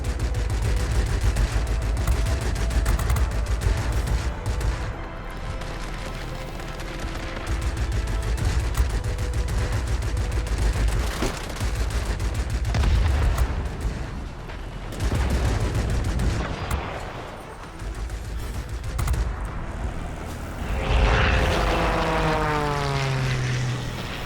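Propeller aircraft engines droning continuously in World of Warplanes, with a Yak-19 and enemy planes around, mixed with bursts of anti-air and gunfire. The roar is loud and steady, with a rising whine near the end.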